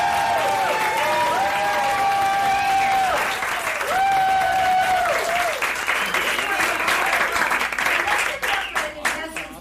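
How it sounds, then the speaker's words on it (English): A live audience at a storytelling game show bursts into loud, sustained applause and cheering that fills the whole stretch, with whoops and tonal crowd calls rising over the steady clapping. "how about a round of applause for Christine Black?"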